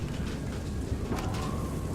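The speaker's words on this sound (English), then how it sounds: "Oh, it's raining." Rain falls steadily in the video game FAR: Lone Sails, a soft, continuous hiss with faint low rumbling, quiet and even throughout, with no voices over it.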